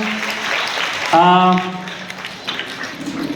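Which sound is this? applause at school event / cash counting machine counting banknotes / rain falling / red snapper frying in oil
applause at school event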